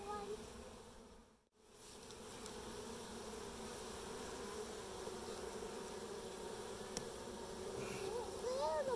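Honeybees buzz in a dense, continuous drone at an open beehive, steady and close for the whole stretch, with a brief dip early on before the hum resumes at full strength.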